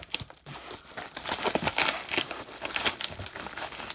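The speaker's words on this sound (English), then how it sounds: "Oh, it's got tape on it. I'm gonna use my knife." A knife slicing through packing tape on the box of a newly delivered Wheelock AES-EL1-WM-24 alarm, with close crinkling and tearing rasps that build and continue in uneven bursts.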